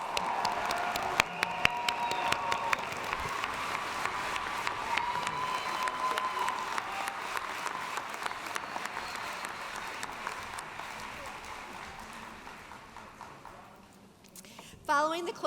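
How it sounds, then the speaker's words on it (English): A large audience at a university commencement ceremony applauds graduates. The clapping is dense, steady and sustained and then fades gradually, with a brief voice at the end. "Let's give them a hand of applause."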